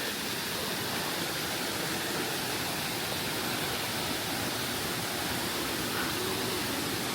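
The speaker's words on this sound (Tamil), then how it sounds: "இந்த ஆற்றினுடைய சத்தம் வந்து நமக்கு கேட்க ஆரம்பிச்சிடும்" Mountain river stream on the 6200-foot Agathiyar Malai trek, a constant full rushing of flowing water, steady and fairly close with no voices.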